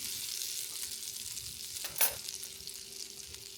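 Onions and celery sautéing in a pan, heard as a steady soft sizzle with one brief louder scrape or stir partway through, and no voices.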